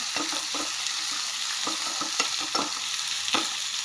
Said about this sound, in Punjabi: ਆਪਾਂ ਪਾਵਾਂਗੇ ਪਿਆਜ਼ ਬਰੀਕ ਕੱਟੇ ਹੋਏ ਇਹਨਾਂ ਨੂੰ ਆਪਾਂ ਸੌਟੇ ਕਰ ਲੈਂਦੇ ਆ